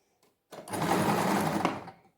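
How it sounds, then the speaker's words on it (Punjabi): A sewing machine stitches lace onto a sleeve in one quick continuous burst, a steady close whirring run that starts abruptly and stops after under two seconds, with no talk. "ਇਹਦਾ ਸੈਂਟਰ ਦਾ ਇੰਚ ਦਾ ਗੈਪ ਪਾ ਕੇ ਇਹਦੀ ਸਲਾਈ ਲਾ ਦਾਂਗੇ"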